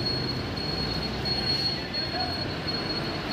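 A train crosses a bridge overhead while a road runs beneath it: a continuous rumble of wheels on the track with a thin, steady high squeal riding on top, moderately loud and unbroken.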